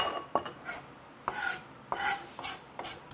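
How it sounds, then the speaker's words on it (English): A kitchen knife finely chops a gathered ball of fresh dill and tarragon on a board. About five or six sharp, close cuts come in an uneven rhythm with no talk. "Gather them all up into a little ball and just finely chop them."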